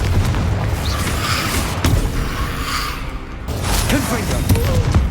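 Confringo fire spells explode as deep booms in a Hogwarts Legacy combat fight, several heavy blasts landing among rumbling effects, with a character's voice speaking over the action.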